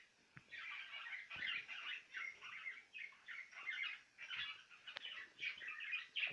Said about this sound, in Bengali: আপনারা দেখতেছেন জাবা পাখি,